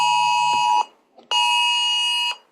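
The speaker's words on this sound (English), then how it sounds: "And there's a silver alert on my phone." A phone sounds a silver alert emergency tone: two loud, harsh, sustained buzzing blasts, each nearly a second or more long, separated by a short gap, with no talk.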